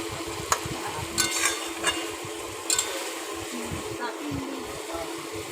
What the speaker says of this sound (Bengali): ওই এঁচে সেদ্ধ করা যে জলটা ছিল ওটা দিয়ে দিচ্ছে মা